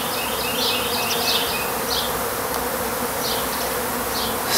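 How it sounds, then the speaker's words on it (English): A dense swarm of honey bees hums steadily around a feeder inside a top bar beehive, a close, continuous buzz with individual insects whining past now and then. "There's just this enormous amount of bees on the back side around this feeder."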